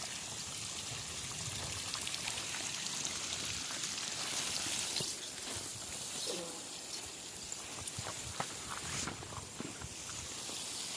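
KRS canal water flows steadily into a farm field for irrigation, a continuous broadband rush and trickle with occasional small splashes, close and even throughout.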